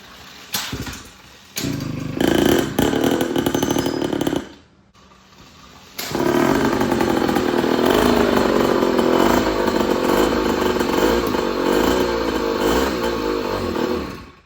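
Razor 2-stroke dirt bike engine with a baffled muffler, close and loud: several sputtering start attempts, a brief gap, then a steady buzzing idle that holds for about eight seconds.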